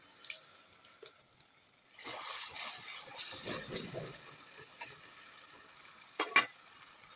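Onions frying in a pan with ginger-garlic paste added, cooked for a home-style coral fish head and bottle gourd curry: a broad, steady sizzle that swells midway, with soft scraping and a couple of sharp clinks near the end.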